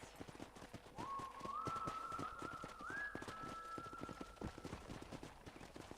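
Horse hooves clip-clop steadily in Red Dead Redemption, a regular rhythm of close thuds under a sustained whistling tone and faint ambient sound, with no talk.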